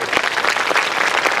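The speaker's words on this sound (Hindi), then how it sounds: "कम से कम अपनी उस मेहनत के लिए तालियां बजाओ।" A crowd applauds steadily at a political speech, producing a dense, continuous wash of many hands clapping, loud and sustained.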